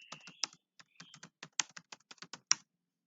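Close typing on a computer keyboard, a run of crisp separate keystrokes with small irregular pauses and a few harder taps.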